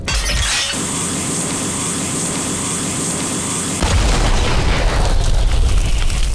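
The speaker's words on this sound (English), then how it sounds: "The sound of each shot is immense, thunderous and truly impactful, and the charge-up shot, my word, it sounds terrifying." Shotgun blasts from an FPS video game, a loud, dense booming roar that keeps rumbling continuously and surges heavier partway through, with no talking.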